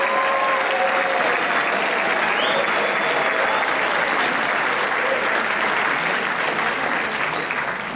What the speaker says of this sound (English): round of applause for Sebastien De La Cruz and our Fandango dancers